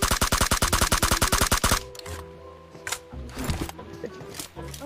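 Rapid automatic gunfire in a battle royale video game rattles out as a loud, evenly spaced burst of shots, then gives way to quieter scattered in-game clatter and thuds.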